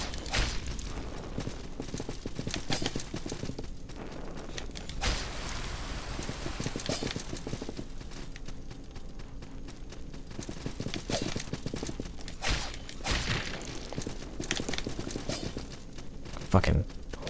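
Horse hooves clip-clop in the video game Salt and Sanctuary, rhythmic muffled thuds mixed with bursts of combat noise and rain-like texture, someone talking over it at moderate level.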